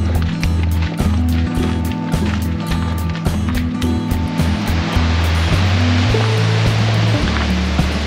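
A waterfall's roar grows steadily louder and nearer, a dense, constant wash of rushing water with no pauses, alongside footsteps or movement on a road trip hike; no talking.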